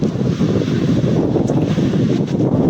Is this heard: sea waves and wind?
yes